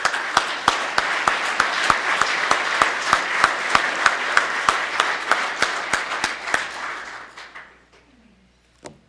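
A civic audience at a city State of the City address applauds to welcome a guest to the stage: dense, loud clapping with sharp individual claps standing out, sustained for several seconds before tapering off into quiet with a final lone clap.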